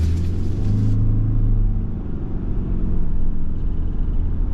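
A 2024 Subaru Ascent's 2.4-liter turbocharged engine rumbles low and steady from inside the cabin, building as the SUV pulls away from a stop, with a constant deep drone and no talking.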